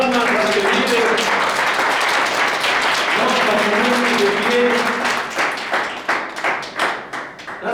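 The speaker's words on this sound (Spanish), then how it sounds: "Dale palmas a que vive." Church congregation clapping hands in praise, loud and dense at first with voices over it, then thinning into separate rhythmic claps toward the end.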